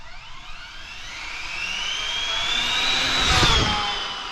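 An Arrma Infraction 6S RC car runs at full throttle uphill, its electric motor whine rising steadily in pitch and loudness to a peak before easing off, alone and fairly close.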